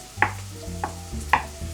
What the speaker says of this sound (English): I'm going to slice it up into smaller chunks and fry them.